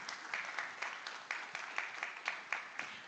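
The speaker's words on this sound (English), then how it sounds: "Give them a big round of applause." A conference audience at a cybersecurity forum applauds after a talk, a faint, thin patter of clapping with a few sharper individual claps standing out at a steady uneven rhythm.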